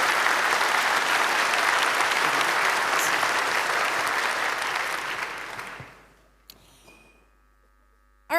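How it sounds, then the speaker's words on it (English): Steady audience applause fills a conference hall for the speakers at a security talk, holding for several seconds before fading out into near silence. "give them a huge round of applause."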